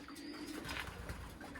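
Racing pigeons coo softly at the loft with faint chirps and a brief wing flutter. The sound is quiet and somewhat distant over a steady background hum.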